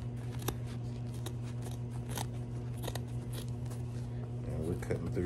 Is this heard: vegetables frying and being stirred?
no